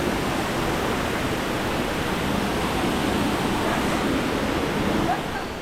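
The Goa Raja waterfall in eastern Bali, Indonesia, roars as a steady, dense wash of falling water that fills the whole clip with no pauses.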